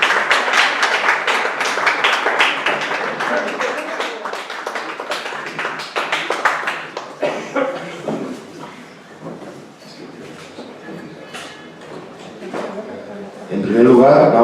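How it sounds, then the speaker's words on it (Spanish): Audience applause for fencing athletes before a fencing exhibition: dense, loud clapping for about seven seconds, then thinning to scattered claps while voices carry on underneath. "ahora me gustaría que diésemos un aplauso a los deportistas que van a hacer la exhibición"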